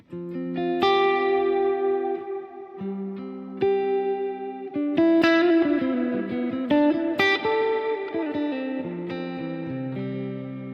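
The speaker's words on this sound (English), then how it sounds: "shimmer reverb." Electric guitar played through a shimmer reverb selected on a Morningstar MC6 controller, chords and single-note lines blooming into bright, shimmering sustained tails that overlap continuously.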